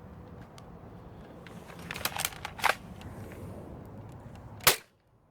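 A Nerf Modular Cycloneshock toy blaster fires a Pop Rocket round, with several mechanical clicks and rattles building to one sharp snapping shot near the end, close up and with no voices.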